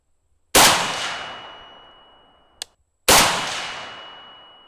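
Two sharp metallic impacts of bullets hitting a steel target at a shooting range, a couple of seconds apart, each ringing out and slowly fading, with a brief small click between them.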